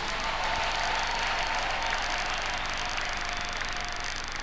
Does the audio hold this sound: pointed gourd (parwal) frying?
no